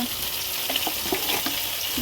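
Taro and pointed gourd frying in a pan with spices, a dense, loud, close sizzle with bright spattering and occasional stirring scrapes, steady throughout, with no speech.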